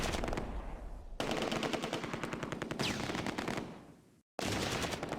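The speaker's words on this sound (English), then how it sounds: "Finley's Bren targets the Panzerschreck." Bren light machine gun fire in the Close Combat: A Bridge Too Far World War II strategy game, rapid bursts of close, crisp shots in long strings, with brief pauses between bursts and a sudden cut near the end.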